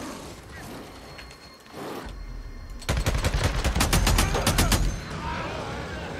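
Gunfire in the video game Days Gone: a rapid burst of loud automatic shots, about a dozen sharp cracks in quick succession, following a low thud and quieter ambient game sounds.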